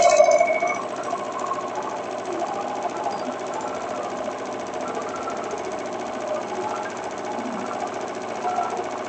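Home sewing machine stitching a wrap dress, a fast continuous rattling whir that holds steady for several seconds after a louder start, with no talking over it.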